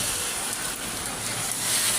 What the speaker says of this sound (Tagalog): Kaso mga Madam Bertod, ning kusog ang ulan.